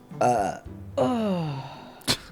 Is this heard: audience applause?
no